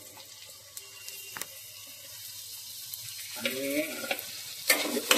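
Tomatoes dropped into a hot pan of frying wet cashew curry (ओल्या काजूची भाजी) with curry leaves, giving a soft sizzle and stirring clatter that swells near the end, with a brief spoken word.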